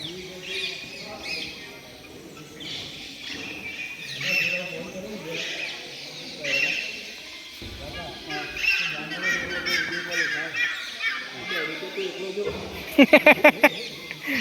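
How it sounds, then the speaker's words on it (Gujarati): A peacock calls in a bird enclosure at a jungle safari park near the Statue of Unity. Harsh honking cries sound at intervals, ending in a quick run of loud repeated calls, with people talking nearby. "મોર પીકોક"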